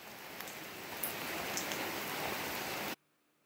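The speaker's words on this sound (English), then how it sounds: "it's raining, but it is daylight" Steady daytime rain falling in Pai, Thailand, a constant hiss of drops with occasional louder patters, cutting off abruptly to near silence at the end.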